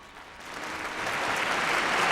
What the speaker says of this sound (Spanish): se escuchaban los aplausos y los gritos